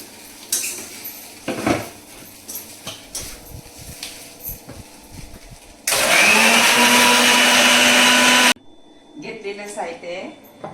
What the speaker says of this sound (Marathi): पाणी घालायचं आणि मग मिक्सरला लावायचं